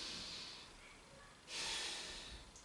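A long audible exhale during a children's yoga breathing exercise, a soft airy rush that swells suddenly, close and alone.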